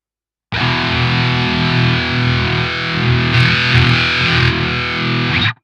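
A heavily distorted electric guitar through parallel amp models in the NAM XT Neural Amp Modeler app on iOS rings out loud and thick, chords sustaining with a brief brighter stretch midway before cutting off.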